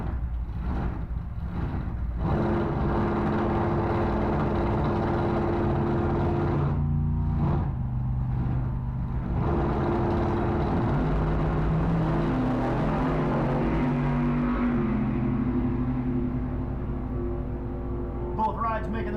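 Two drag race cars, one with a blower, run down the quarter-mile strip at a car cruise night, with loud engine roar building and fading as they pass, and an announcer talking over them.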